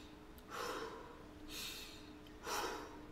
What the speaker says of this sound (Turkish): Nefes alırken